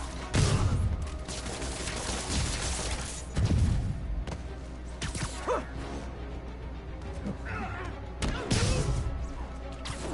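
Gunfire rattles in bursts through a Marvel's Spider-Man video game fight, mixed with whooshes, impacts and other combat effects at a fairly even, busy level.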